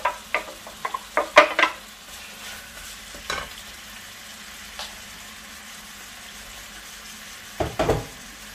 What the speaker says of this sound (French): Je continue donc la cuisson de mes lentilles avec la viande.